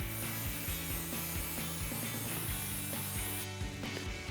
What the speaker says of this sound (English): We're going to immediately spray this off with brake clean.